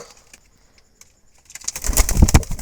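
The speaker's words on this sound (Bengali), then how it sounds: "একেবারে ঘুঘু কোয়ালিটির কবুতর এগুলো।" Jalali pigeons in a loft, a few faint coos at first, then a burst of loud rustling and wing flapping close by that fills the second half.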